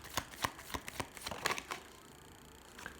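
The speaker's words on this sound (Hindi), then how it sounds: "मैं शफल कर रही हूँ, आप उस इंसान के बारे में सोचें।" Tarot cards being shuffled by hand, a string of crisp riffling snaps and flicks in quick succession that trail off into quiet.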